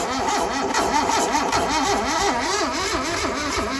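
Mitsubishi Lancer Mivec engine, not cranked in 15 years, turning over on the starter in a rhythmic, wavering whir with steady loud cranking throughout.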